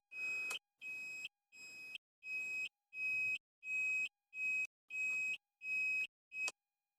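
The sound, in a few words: scooter turn signal beeping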